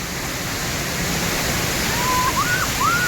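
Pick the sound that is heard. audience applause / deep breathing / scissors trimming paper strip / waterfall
waterfall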